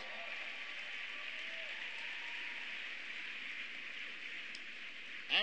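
Steady applause from a large audience at a Democratic fundraiser, a dense even wash of clapping filling the room for several seconds, with a brief louder burst at the very end.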